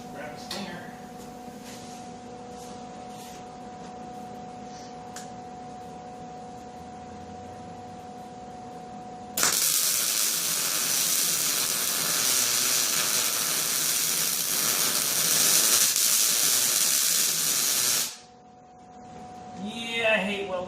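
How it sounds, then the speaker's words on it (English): Stick welding tacks steel hinges onto a step van's rear ramp door: after a quiet, humming stretch, a loud crackling arc hiss bursts in and runs unbroken for about nine seconds before cutting off abruptly. "now we'll just tack the center one in and pull the clamps off and see if this thing hinges"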